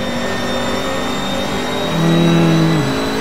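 A Mercedes race car in the Assetto Corsa racing game drives down the back straight. The engine drones loud and steady, with a rising pitch as it accelerates near the end.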